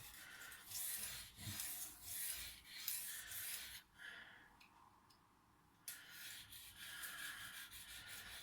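Steel kitchen knife drawn repeatedly through a cheap pull-through sharpener, giving close, rhythmic gritty rasping strokes with a brief pause midway before the strokes resume.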